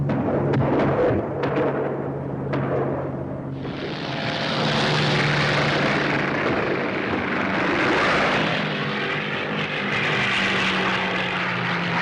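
A World War II propeller bomber drones steadily in flight, its engines a loud, continuous roar that swells and thickens partway through, with no voices.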